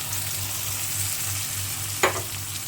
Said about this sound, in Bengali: এখন হচ্ছে আমি চিংড়ি মাছগুলো তেলের মধ্যে দিয়ে দিব।